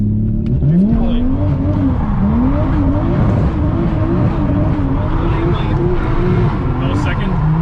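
A 450 hp Toyota Chaser with a turbocharged 1JZGTE engine on E85 drifts, its engine revving loud and continuous, the pitch rising and falling as it slides.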